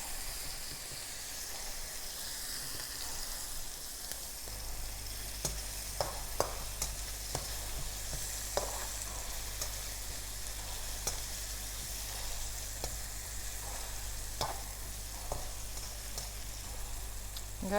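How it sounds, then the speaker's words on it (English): Peppers stir-frying in a very hot pan, a continuous loud sizzle and hiss with occasional clicks of stirring, steady throughout and no talking; a low hum joins partway through. "I'm going to put my peppers in next. Keep it moving because it's very hot"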